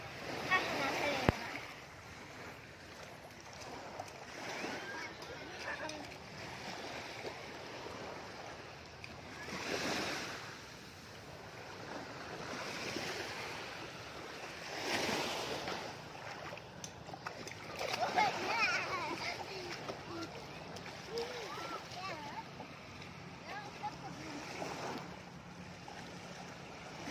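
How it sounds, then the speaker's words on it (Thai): Sea waves break and wash onto Pattaya beach in repeated surges, with splashing surf and some wind noise; children and adults talk over the water throughout. "น้ำทะเลพัดไปเลยอะ"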